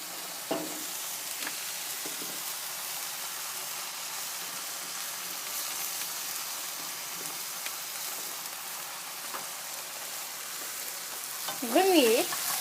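Sliced courgettes fry in a pan for Mexican rice, giving a soft steady sizzle close by at moderate level with occasional stirring scrapes, and a brief voice near the end.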